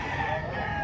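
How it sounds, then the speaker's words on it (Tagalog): Rooster crowing close by among gamecocks of the golden boy breed offered for sale, one sustained crow set against steady background noise. "Magandang manok."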